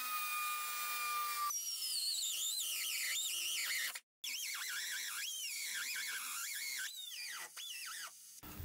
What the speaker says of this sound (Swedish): Har hållit på ett tag nu och slipat och kapat och allting.